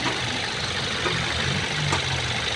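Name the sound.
Toyota Innova 1GD diesel engine running after overhaul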